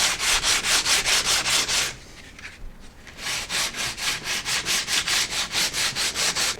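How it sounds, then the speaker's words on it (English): A sanding block with sandpaper rubs along the edges of a wooden bow in steady, rapid back-and-forth strokes, loud and close, pausing briefly before the rhythmic scraping resumes. "I don't recommend using sandpaper too much, but sometimes if you have a block like this, you can really straighten up those edges."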